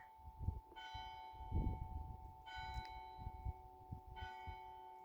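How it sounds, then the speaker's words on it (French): Church bells ring at a slow, steady interval, each strike leaving a long humming resonance, fairly distant beneath soft low rumbling. "Au rythme des cloches qui nous accompagnent"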